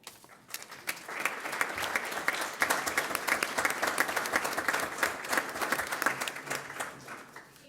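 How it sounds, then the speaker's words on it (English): Sustained applause from a crowd at a school district governing board meeting, even, fairly distant clapping that swells in after a quiet start and holds steady to the end. "If you would all stand so we could give you a round of applause as well."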